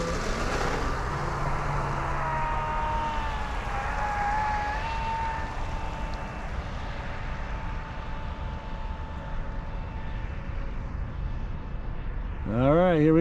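Steady, loud whine of a Mad Lizard RC boat with SS turn fins and a SonicWake V2 setup running at full throttle on water, holding a constant buzzing pitch before a sudden change near the end.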